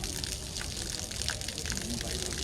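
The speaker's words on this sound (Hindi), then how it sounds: "ये देखेंगे आप फायर टेंडर की गाड़ी जो है अब यहाँ पर पहुँच चुकी है और इस आग को बुझाने की कवायद शुरू कर दी गई है।" Water jet from a fire tender hosing down a street fire in Jammu, a steady broadband gushing hiss, fairly faint and continuous with distant background commotion.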